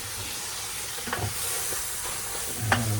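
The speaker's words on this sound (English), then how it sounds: "This one, we're gonna give it a stir" Curry turkey neck being stirred in a pot, a constant frying sizzle with a few scraping, clattering stirs of the spoon against the pot, close by and with nobody speaking.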